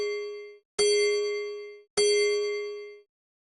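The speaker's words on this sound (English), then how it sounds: "Can you count the chimes and help me tell the time?" Three bell-like clock chimes struck one after another, each a bright ringing tone that decays slowly, spaced about a second apart and heard alone.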